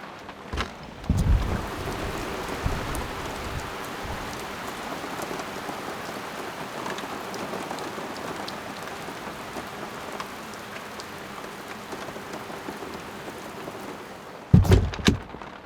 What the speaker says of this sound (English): It's literally going to be raining like this all night.